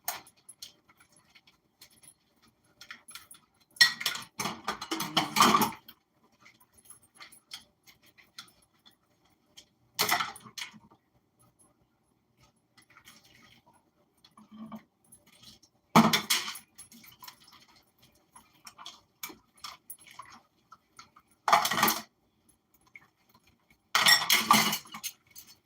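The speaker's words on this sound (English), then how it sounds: "After I finish doing the dishes" Dishes being washed by hand after baking a lemon cake, with glass and cutlery clinking and rattling in short clustered bursts separated by quiet pauses, fairly close and with no talking.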